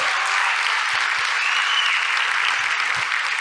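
Steady applause from an audience at a science lecture in Chile fills the room, dense and even clapping throughout with no voices standing out.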